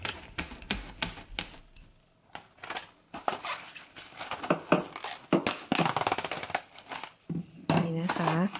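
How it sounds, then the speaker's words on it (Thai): Plastic wrap is pulled over a bowl of ground pork mixture for homemade bouncy pork balls, giving close crinkling and sharp rustling clicks in bursts, with someone talking in between. "จากนั้นก็จะใช้ฟอยล์พลาสติกคลุมค่ะ"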